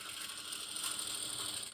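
Sewing machine stitching a seam with backstitch at a 1.5 cm allowance, a steady fast mechanical whirring and clicking that runs continuously and fairly quietly with no talk.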